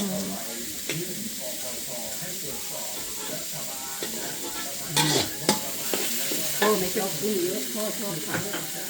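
Morning glory is stir-fried in a wok with a bright, hissing sizzle and repeated clattering strokes from a spatula. A louder burst of scraping and spattering comes midway.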